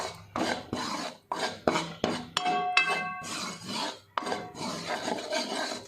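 Flour roasts in a pan for a Himalayan radish jholi as a spoon stirs it in repeated scraping, rasping strokes with an occasional clink against the pan, steady and close, with no talking.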